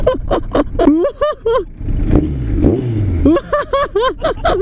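A custom Kawasaki Z2 750RS motorcycle fires up, its engine barking through a few loud, close revs before it settles briefly and then revs sharply again.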